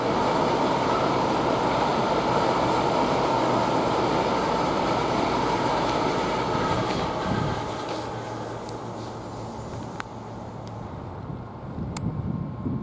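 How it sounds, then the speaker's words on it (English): A Great Western Railway train rolls past at Didcot Parkway station, its loud, steady rumble and wind-buffeted roar filling the first half before easing into a quieter, fading hum with faint clicks. "Now we're seeing some Great Western Railway going up towards that line"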